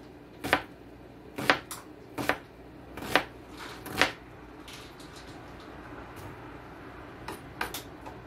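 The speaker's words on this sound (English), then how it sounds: "So we cut down the onion, and then we cut across small pieces." A knife chops an onion into small pieces on a board. Several distinct, crisp cuts land about a second apart, then pause before a few lighter cuts near the end, close and without talking.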